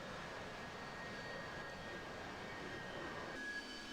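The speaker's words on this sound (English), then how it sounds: "let's see what happens when the Harriers try to take off vertically" Harrier jets lift off vertically in a flight-simulation game near the historic Tarawa, with wind set to 21 knots at 1600 feet: a steady, continuous jet-engine roar, with no speech.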